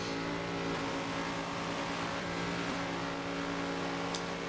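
Race cars, a Corvette and a Mazda, run down the straightaway in a Daytona 24 video game race, giving a steady, loud engine drone throughout with layered harmonics and no talk.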